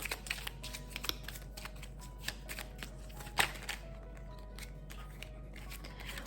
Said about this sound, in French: je finis avec une petite carte de mon oracle